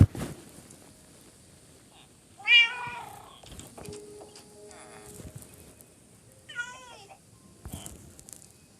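Several cats meow in short bursts, some rising and wavering, with gaps of quiet between calls and faint background noise.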